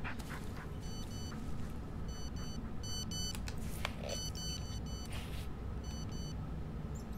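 In the Blair Witch video game, a cell phone beeps in a short run of quick electronic tone groups, repeated several times over low background rumble and a dog's faint whimpers.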